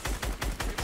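Rapid gunfire hits a player in Fortnite: a quick burst of about five evenly spaced punchy shots within under a second, loud and close.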